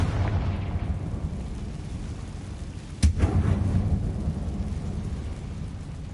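A Confringo fire spell bursting in Hogwarts Legacy inside a mine: one sharp, loud blast midway with a low rumbling tail, over a steady dark ambient drone.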